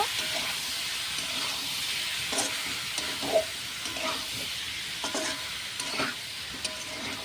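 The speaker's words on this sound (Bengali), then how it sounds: "এই যে দেখুন বন্ধুরা আমি এভাবে দিয়ে দিয়েছি ভালো করে একটু কষিয়ে নেব" Rohu fish pieces sauté in hot oil in a pan, giving a steady close sizzle with occasional scraping stirs and soft clinks throughout.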